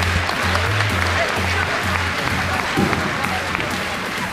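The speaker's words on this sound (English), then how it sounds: "Please, everyone, give a huge round of applause for your Forest Hills wrestling alumni" Crowd applause in a high school gym for the Forest Hills wrestling alumni at a varsity wrestling meet, steady dense clapping that continues throughout, with a low hum underneath and a voice faintly audible.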